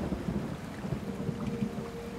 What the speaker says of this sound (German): Ach, ich liebe den Regen, der gerade einfach nur da ist.